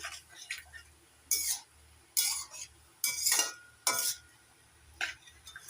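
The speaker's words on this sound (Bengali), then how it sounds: "নাড়াচাড়া করে ভালো করে মিশিয়ে নিচ্ছি সব কিছু একসঙ্গে" A spoon stirs gourd greens and prawns in a cooking pan, giving crisp clinks and scrapes in short irregular bursts with quiet pauses between, up close and with no speech.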